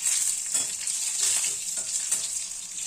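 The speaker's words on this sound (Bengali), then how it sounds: "এটা একটু ভাজা ভাজা করে নেব।" Green chilies, cumin and other spices sizzle hard in hot oil, a loud, continuous crackle close by with faint stirring scrapes beneath.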